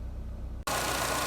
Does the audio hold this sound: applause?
no